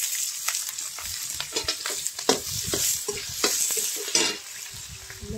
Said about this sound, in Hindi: और फिर इसमें डालती हूँ प्याज